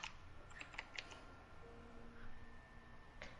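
Keys clacking on a computer keyboard being tested, a quick cluster of several keystrokes, a pause and then one more, close and fairly quiet over a low background hum.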